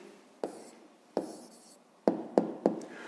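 Pen writing an answer on paper during a maths exercise, a few short scratchy strokes and taps spaced irregularly, close and quiet, with no talking.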